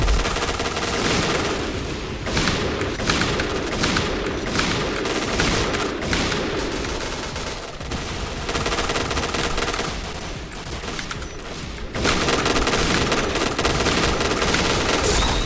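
Gunfire in the video game Point Blank during a team match, rapid machine-gun bursts and overlapping shots rattling loudly and almost continuously, with only brief thinner gaps between volleys.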